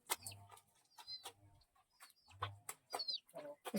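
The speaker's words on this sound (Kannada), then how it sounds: "ಕೋಳಿ ನೋಡಿ" Chickens cluck close by in short, repeated bursts of calls with brief quiet gaps between them, heard alone without talk.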